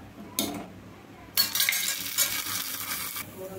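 Tomato dal with its tempering is cooking in a pot, heard as short bursts of stirring, soft sizzling and light utensil clinks against the pan, with quiet pauses between them.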